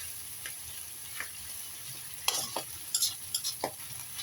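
Noodles being stir-fried until dry under a constant quiet sizzle, with a spatula scraping and tapping the pan in irregular strokes, close by and without speech.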